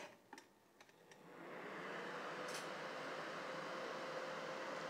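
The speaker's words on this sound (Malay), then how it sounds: "Korang boleh dengar kuat mana dia punya kipas ni." A cooling fan runs loudly indoors in a studio after a rice cooker is switched on empty, starting with a few clicks and then rising within about a second to a steady, strong broadband whoosh that holds to the end.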